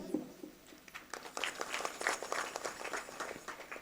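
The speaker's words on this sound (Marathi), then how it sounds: "अजिबात मला कुचक्या टाळ्या आवडत नाही, जरा जोरात वाजवायच्या" An audience at a kirtan gives a stretch of scattered, moderately loud clapping that builds into a dense patter of applause, heard close and without speech.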